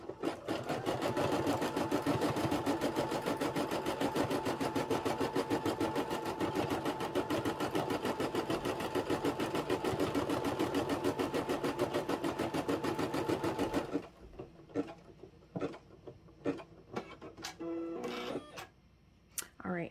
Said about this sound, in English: let it run that tack down stitch before I trim it